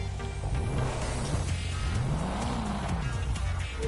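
Car engine revving in the racing game The Crew 2, a steady loud drone that rises and falls in pitch as the virtual car accelerates, with faint tire noise and no talk.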